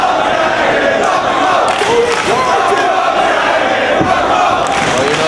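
Ring of Honor wrestling crowd at a live event chanting loudly in unison, a dense, continuous roar of voices filling the arena.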